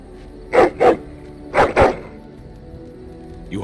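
A dog barks in Dragon Age: Origins: two pairs of short, loud, close barks about a second apart, standing out over a quiet low hum.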